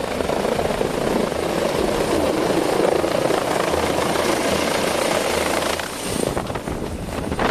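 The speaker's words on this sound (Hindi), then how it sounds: "पहाड़ी की तलहटी के बीच फंस चुके एक शख्स का हेलीकॉप्टर से रेस्क्यू करना।" A rescue helicopter hovers over a snow-covered mountain slope, its rotor producing a loud, steady, close-range drone without pause that dips slightly near the end.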